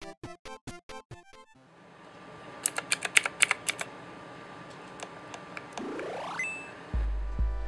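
Clicky keys on a Divoom Ditoo retro pixel-art mini PC with a 6-key mechanical keyboard tap out a quick run of sharp presses, followed by a rising electronic chirp and a low tone.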